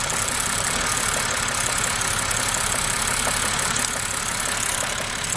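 A 2006 BMW E90 engine idles steadily at close range with a rough, vibrating hum and a faint uneven knock, continuous for a few seconds without talk.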